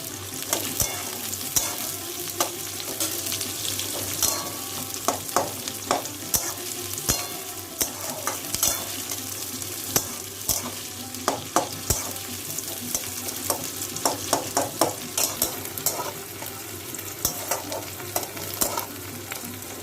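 Sliced onions sizzle steadily in a pan while a spatula scrapes and stirs them in frequent sharp clicks, close and fairly quiet, with no talking.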